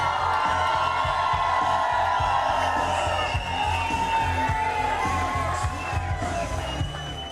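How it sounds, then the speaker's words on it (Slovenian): A crowd of about 2000 fans in Zagorje cheers and chants to welcome a cyclist home, a loud, continuous mass of voices with shouts and whoops rising over steady rhythmic beats. "2000 navijačev z burnim skandiranjem pozdravilo zagorskega junaka"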